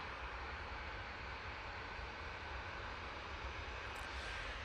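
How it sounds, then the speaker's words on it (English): A Boeing 737 MAX 8 rolls down the runway at Manchester Airport for takeoff, a steady, fairly distant engine roar with no voices over it. "737 MAX 8 now on the roll"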